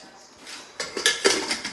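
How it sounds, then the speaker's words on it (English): Lid set onto a cooking pot in a home kitchen while water-filled pasta is about to cook, giving a few close metallic clanks and rattles in quick succession. "So let's close the lid"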